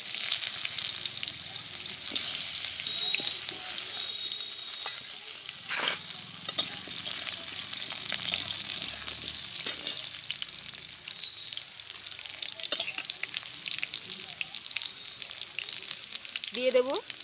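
Cut potato pieces fry in hot oil in a wok, a loud, close, steady sizzle with scattered scraping and stirring clatter, and a brief voice at the very end.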